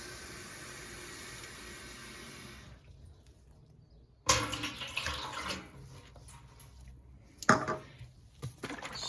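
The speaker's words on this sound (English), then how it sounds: "Get 2 cups of water in there." Water poured from a cup into a container for mixing Rit fabric dye, a steady stream for a few seconds, then bursts of splashing and pouring, close and fairly quiet, with no talking.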